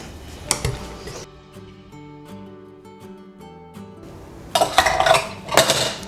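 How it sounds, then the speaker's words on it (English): A metal whisk clinks and rattles against a bowl while mixing pumpkin pie filling with salt and cinnamon: a brief burst of clinking, a quieter stretch with soft tonal music, then a louder run of fast, busy scraping and clattering. "And then I'm just going to use my whisk"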